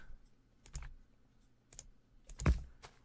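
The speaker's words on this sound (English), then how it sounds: "You make me sad with all your extra clicking." Sparse computer mouse clicks during Factorio play, soft close taps in small clusters with one louder click, otherwise quiet.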